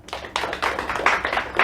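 A small audience at a book talk show claps, starting sparse and quickly building into brisk, close applause over a short moment.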